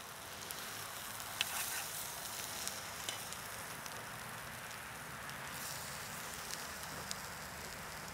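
A quiet, steady sizzle of tofu frying in olive oil in a Swedish pan over an outdoor wood fire, crackling softly and continuously with occasional small pops.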